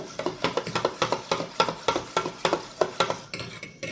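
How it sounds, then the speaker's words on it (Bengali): Egg and milk whisked together in a bowl for a mango-filled patishapta batter: a rapid, steady clatter of a utensil striking the bowl, close and fairly loud, slowing toward the end. "দেখো এই ডিমটা দুধটা একটু ফেটে নিলাম।"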